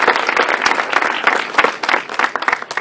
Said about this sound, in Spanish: Un aplauso para don Ramón.